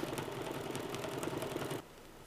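A sewing machine stitching around the edges of purple fabric applique pieces on a trapunto quilt flower, running with a steady fast mechanical whir for almost two seconds, then stopping abruptly into quiet.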